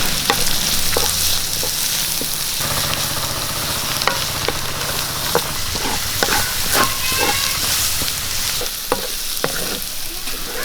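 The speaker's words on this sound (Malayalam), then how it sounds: "നമ്മൾ അരിഞ്ഞു വെച്ച പച്ചമുളക് ഇട്ട് കൊടുക്കാം അരച്ചു വെച്ച ഇഞ്ചി വെളുത്തുള്ളി പേസ്റ്റ് ഇട്ട് കൊടുക്കാം" Chopped green chillies and ginger-garlic paste hit hot oil in a frying pan for a Malayalam-style soya dish, giving a steady loud sizzle with repeated stirring scrapes and clicks throughout, no voices.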